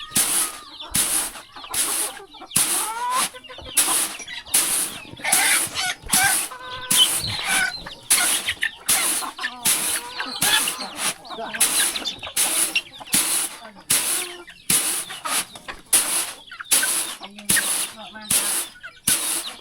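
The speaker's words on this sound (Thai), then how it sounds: "อ้ไก่มาหุ่มเราเลย" Chickens clucking near a stream beside a river in rural countryside, a steady run of close, repeated clucks over about twenty seconds, mixed with talk.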